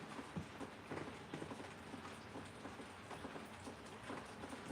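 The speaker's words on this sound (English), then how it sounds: "It's raining, finally." Rain falls outside a garage workshop, a faint, irregular patter of drops tapping on surfaces, quiet and steady across the short stretch.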